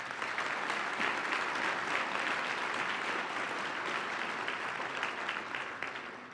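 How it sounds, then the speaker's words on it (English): Sustained crowd applause at an annual business meeting, a dense steady patter of many hands clapping that tapers slightly at the end, with no speech over it. "let's give our founders and the CLP program, we know there are a lot of alumni in this room, another round of applause"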